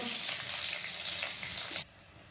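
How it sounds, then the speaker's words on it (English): Hot oil spluttering and sizzling loudly while masala dosa filling cooks, a steady crackling hiss that cuts off abruptly near the end, leaving quiet background. "that's why you can hear the spluttering sound now itself"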